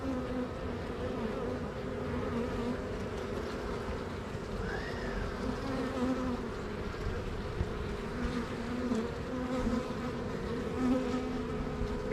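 Honeybees buzzing in an open, queenless beehive, a steady dense hum filling the whole stretch with occasional nearer individual bees passing, close and even in level.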